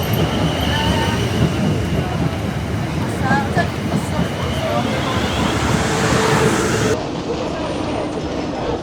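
A train runs through Clapham Junction station, a steady loud rumble of wheels on rails with faint squeals and clatter heard from the platform, continuous for several seconds.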